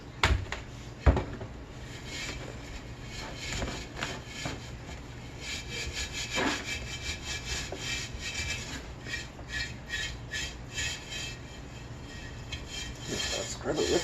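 Scrubbing rusty old cast iron with baking soda, a steady gritty rubbing that rasps on and off over the full stretch, close by with no talk.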